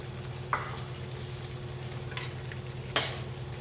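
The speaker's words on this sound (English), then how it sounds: "Stir this up till it's well combined and let it simmer for about 15 to 20 minutes." Sicilian caponata with capers, golden raisins and pine nuts being stirred in a pan: a faint, steady simmer underneath, with a couple of brief spoon scrapes, one near the start and a sharper one toward the end.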